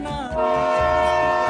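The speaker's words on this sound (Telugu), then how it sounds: "ట్రైన్ వచ్చేసింది." A train pulls in with a loud, sustained horn, its steady harmonic tone held for the full moment, with rail rumble underneath.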